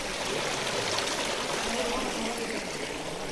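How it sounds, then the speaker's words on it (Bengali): Cold stream water rushes steadily past rocks, a dense, continuous broadband wash that stays loud and even throughout, with no clear voices on top. "কিতা হইতাম পানির আওয়াজ শুনো"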